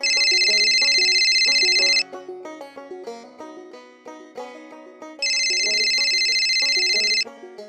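Electronic telephone ringtone sounding in two loud, sustained bursts, each about two seconds long, with a melodic tune playing between them in a home.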